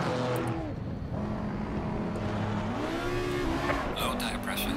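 A GT4 race car engine in Assetto Corsa Competizione hums and shifts pitch steadily beneath someone talking, moderately loud and continuous.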